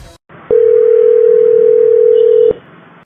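A steady phone dial tone sounds loudly for about two seconds, clicking on and off at each end, as a call is placed to a friend; no one talks over it.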